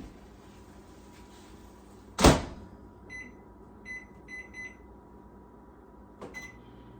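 Potatoes and asparagus go into a small countertop oven: a sharp door slam sounds, followed by a short series of electronic beeps as the timer is set, then a quiet hum.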